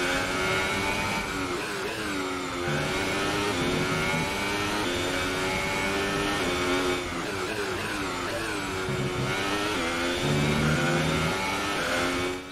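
Formula 1 car engine on a racing lap in the F1 2018 video game, a steady high-pitched whine with rising and falling revs through gear changes, loud and continuous for the whole stretch, with no talking.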